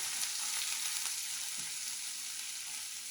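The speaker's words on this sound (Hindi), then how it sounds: "फ्राई कर लेंगे, आंच हल्की रखेंगे, इसको जलाना नहीं हमने।" Ginger-garlic paste frying gently over low heat, a steady soft sizzle with fine crackle running unbroken and close throughout, no voices.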